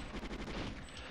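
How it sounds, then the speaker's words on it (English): Rapid automatic gunfire from the video game GoldenEye 007 rattles off in a brief, quick-fire burst of closely spaced shots, fairly quiet and alone. "So I'm just going to gun these down."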